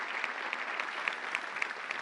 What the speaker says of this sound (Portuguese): Uma salva de palmas para o pastor Silas